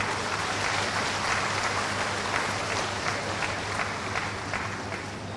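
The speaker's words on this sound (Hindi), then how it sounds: "जोरदार तालियों के साथ अभिवादन कीजिए माननीय मंत्री महोदय का" A crowd at a rural Jharkhand public event gives a loud, steady round of applause to welcome a minister, dense clapping running for several seconds and tapering slightly at the end.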